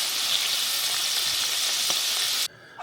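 Tomatoes cooking down in a pot for sauce give a steady bright sizzle and bubbling close by, cutting off abruptly near the end to near quiet.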